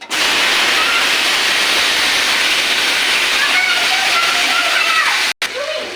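Chopped tomatoes hit hot oil tempered with mustard seeds and dried chilli, bursting into a loud, close, continuous hissing sizzle that cuts off abruptly near the end.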